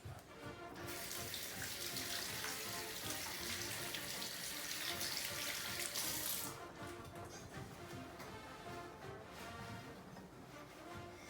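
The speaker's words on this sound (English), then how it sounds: "The first step of baking is always washing your hands." Tap water gushes into a sink during handwashing, a steady close hiss that grows brighter as hands move under the stream, then turns more splashy and uneven after about six seconds, with no voices.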